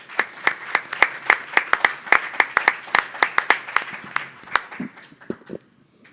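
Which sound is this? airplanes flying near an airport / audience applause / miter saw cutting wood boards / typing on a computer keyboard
audience applause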